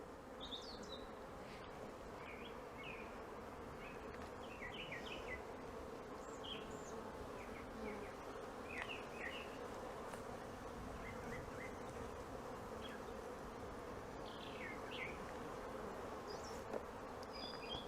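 Honey bees buzz at an open hive during a brood inspection, a dense, continuous hum with individual bees whirring close by, soft and steady without talk.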